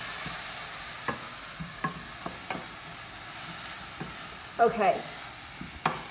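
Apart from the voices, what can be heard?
stirring vegetables sizzling in a pan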